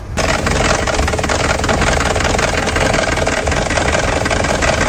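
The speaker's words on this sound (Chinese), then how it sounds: "发动机出现了严重的抖动和异响" A Kia Sportage engine with severe shaking and an abnormal knock, showing fault code P0017 for camshaft and crankshaft position correlation, idles loudly and close by with a constant rough churning and rapid uneven knocking throughout.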